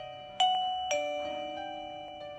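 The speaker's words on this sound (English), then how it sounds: "you can hear the default ringtone as below" Default ringtone of a Tosee smart video doorbell chime, heard close and clear as two bright electronic ding tones, the second struck about half a second after the first, each ringing out and slowly decaying.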